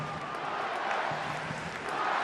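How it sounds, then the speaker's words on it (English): A football stadium crowd at an A-League semi-final between Adelaide United and Central Coast Mariners reacts to a penalty decision with a sustained roar of jeers and shouts, fairly loud and unbroken. "You can hear what the crowd thinks."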